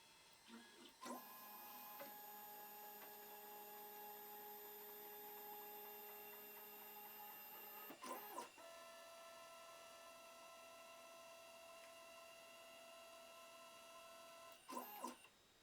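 A 3018 CNC Pro Max desktop machine runs its homing cycle, stepper motors whining in steady tonal drones that shift pitch with each axis move, with short clicks at the changes, close and quiet.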